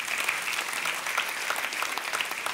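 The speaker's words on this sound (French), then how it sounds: "Vous avez le droit d'applaudir le Seigneur." A church congregation claps steadily, a dense wash of applause from many hands, moderately loud and sustained throughout.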